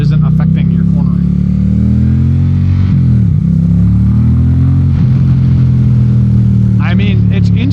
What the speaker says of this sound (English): it's instantaneous power, the torque that you'd expect, but it's a liquid cooled motorcycle